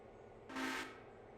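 A diesel locomotive horn sounds one short, loud blast lasting about a third of a second, standing alone over a low background rumble in the Railroader video game.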